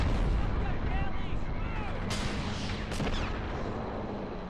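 Artillery fire in the video game Men of War: Assault Squad 2, a steady rumbling battle din with a couple of sharp booming shots cutting through, continuous and dense throughout.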